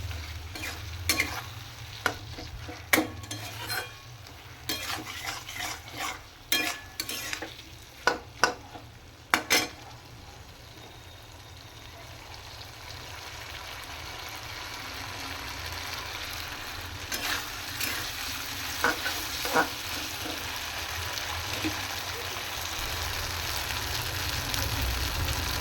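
Fried drumstick (moringa) pieces being stir-fried in a pan, with rapid clattering spatula strokes over a soft sizzle early on, then a steadier, gradually louder frying hiss.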